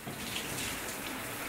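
A shower sprays water while a dog named Max is bathed, a soft, continuous hiss of running water, fairly quiet and unbroken, with no talking.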